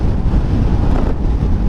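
Strong wind blasting a motorbike and its riders at about 60 km/h on the road to Dhanushkodi, a loud, low, continuous roar buffeting close to the microphone.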